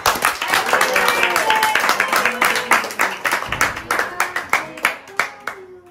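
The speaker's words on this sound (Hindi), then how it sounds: "एक बार ताली दे दो।" A small family group claps by hand for a little girl's fourth birthday at home, a steady burst of close, sharp claps that thins into scattered, slowing claps before fading out.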